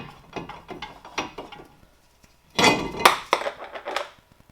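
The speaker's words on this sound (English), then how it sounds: "Then we can remove the rotor." Removing a warped brake rotor from a 2012 Nissan Sentra gives close, faint metallic clinks and knocks in scattered bursts, followed by a louder clatter and scraping as the rotor comes free.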